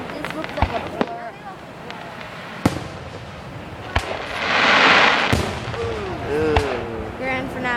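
Fireworks from Joker's Fireworks at a 2015 town display in Brentwood, New Hampshire, firing in a series of sharp booms and crackling bursts, with a crowd talking and cheering between the blasts.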